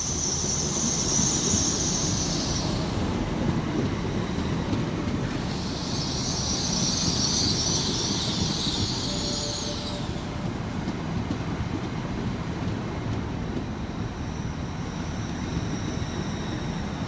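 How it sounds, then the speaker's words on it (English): Northern Class 158 diesel trains arriving at Manchester Victoria station, a sustained rumbling roll with high brake squeals rising twice, loud and close throughout. "Arriving next into the station is 158903 and 158842, working the 1055 Northern service from Leeds through to Wigan Wallgate."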